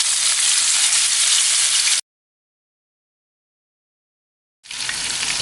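Large chicken pieces for butter chicken frying in oil give a steady, bright sizzle close by, which drops out abruptly into silence for a few seconds before resuming just as strongly.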